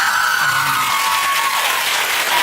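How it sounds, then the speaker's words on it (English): A late-night talk show studio audience claps in a dense, sustained round of applause that stays loud and even from start to finish. "Why are you clapping?"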